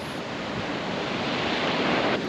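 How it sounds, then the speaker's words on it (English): Powerful ocean waves roar steadily and loudly on the beach at Tangalle, Sri Lanka, a continuous wash of surf close by with no voices. "more than anything it's amazing listening to the beautiful waves"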